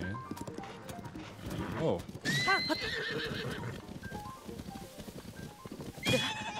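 A horse in Zelda: Tears of the Kingdom gives a few sharp whinnies over the clatter of trotting hooves, with game music and a player talking briefly.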